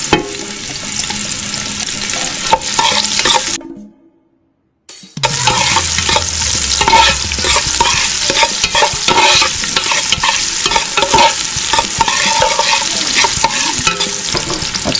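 Ginger, garlic and onion sizzle and fry in a pan for beef skin and fat stew, a steady close crackle stirred now and then, with a brief silent gap before the frying resumes.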